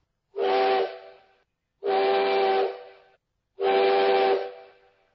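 A train whistle in a children's story sounds three times, each a loud, steady, hissing steam-whistle blast of about a second, evenly spaced and clear with no voice over it.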